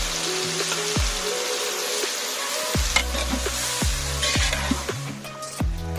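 Crushed green chili, ginger and garlic dropped into a hot pan for jackfruit dum biryani, a steady bright sizzle with clinks and scrapes of stirring near the mic, no talking.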